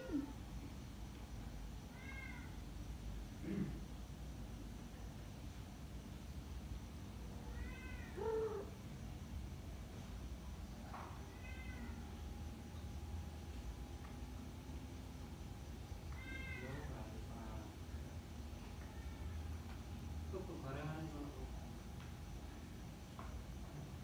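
A cat meows repeatedly at irregular intervals across a long stretch, with about eight distinct drawn-out, pleading calls that sound close, over a quiet steady room hum.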